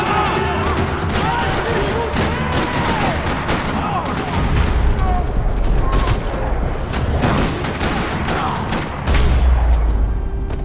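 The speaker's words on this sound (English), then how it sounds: "Another parking lot rattling with gunfire." Video-game gunfire crackles across a parking lot in a detective game: dense bursts of automatic and single shots with booming low impacts, continuous and loud for over ten seconds.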